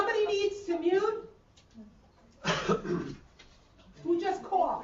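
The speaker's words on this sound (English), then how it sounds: "Who just coughed?" A cough from someone on an online training call, two short rough bursts in the middle, with speech before and after.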